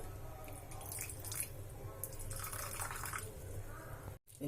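Water poured into jaggery in a cooking pan, a soft, steady trickle heard close but faint, running throughout before cutting off near the end.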